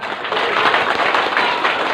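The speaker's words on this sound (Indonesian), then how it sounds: "Tepuk tangan." An audience at an Islamic religious gathering marking Nuzulul Qur'an applauds in a steady, dense wash of clapping that stays loud and even throughout.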